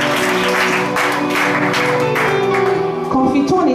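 A church congregation in Martinique claps loudly during a sermon: dense, sustained applause mixed with voices and a held organ or keyboard chord, continuous and energetic throughout.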